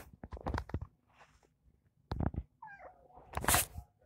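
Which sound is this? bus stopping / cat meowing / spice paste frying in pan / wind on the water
cat meowing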